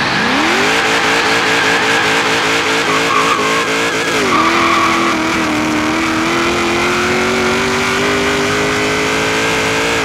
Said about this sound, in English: This is full throttle.